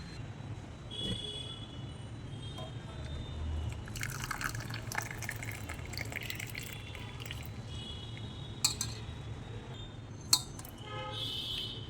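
Mint ginger tea being poured into a cup, a faint trickling fill with a few drips and small clinks, quiet against a low background hum.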